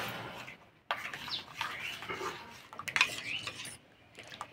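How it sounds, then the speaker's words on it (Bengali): Water and a mixture being stirred in a bowl to dissolve while making a palm-fruit sweet dumpling batter, with steady scraping and rubbing of a spoon against the bowl, continuous and fairly close with short pauses. "ভালো করে গুলে নেব।"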